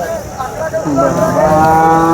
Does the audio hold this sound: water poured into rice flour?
no